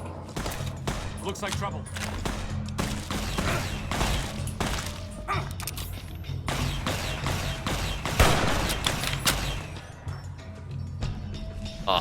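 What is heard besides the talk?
laser Tommy guns firing in video game Fallout New Vegas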